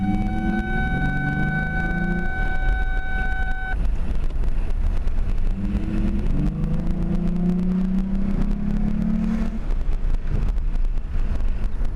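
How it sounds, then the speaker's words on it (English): A Lincoln LS on a test drive gives a steady engine and road drone with wind noise inside the cabin, its engine tone rising and falling as it accelerates, plus a few electronic chime tones early on. "I'm just test driving it out to make sure, you know, the RPMs and the speedometer is the speed gauge is working good"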